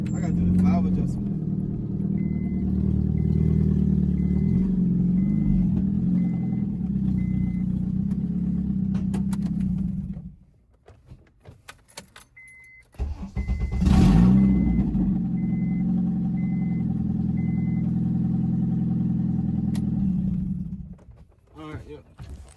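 A turbocharged Honda Accord's K24Z3 engine idles steadily at close range after a valve adjustment, cuts out for a couple of seconds, then restarts with a brief rev and keeps running.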